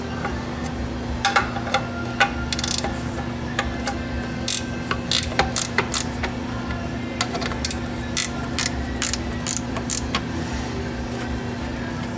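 A wrench or socket ratchets off the fuel filter cap on a Ford F250 with a 7.3 Powerstroke diesel, sharp repeated clicking strokes in irregular bursts over a steady low hum.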